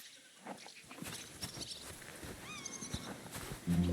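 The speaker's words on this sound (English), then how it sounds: "So this is our horse now." Horse hooves clopping with a whinny in the medieval video game Kingdom Come Deliverance 2, steady and moderately close over a low ambient bed, growing louder near the end.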